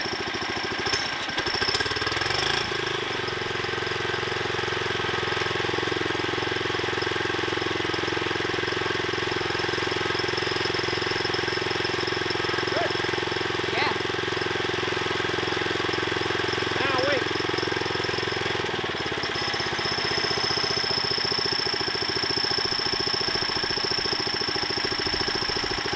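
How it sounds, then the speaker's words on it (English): A homemade trommel's small motor runs steady and throttled up after a brief startup clatter, a loud continuous mid-pitched engine drone that lasts throughout before its tone shifts near the end. "The motor's running, the trommel's staying put."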